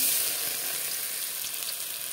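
Garlic sizzling in hot oil with dried chillies and bay leaves, a steady, bright, close frying hiss that holds even throughout.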